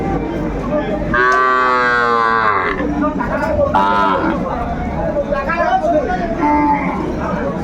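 Sahiwal cattle and bulls at a crowded livestock market, with two long, loud moos rising over steady crowd chatter and nearby talk.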